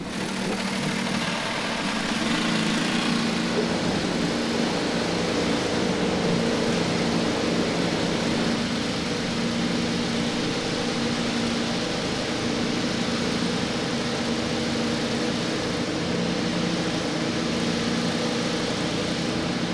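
IndyCar race car engines run under a caution at the Alabama Grand Prix, a continuous, dense, droning engine hum with a steady mechanical whine and no clear break for nearly twenty seconds.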